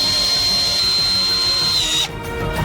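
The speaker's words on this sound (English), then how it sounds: "Additionally, we fix them with screws." A power drill drives screws to fasten parts into a large pipe form, a steady close whine holding for about two seconds before cutting off into quieter workshop noise.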